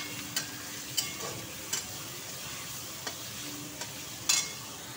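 Onion and tomato fry in a pan for a yam curry, with a soft steady sizzle under sharp scraping spoon strokes that clink against the pan every second or so, close and alone.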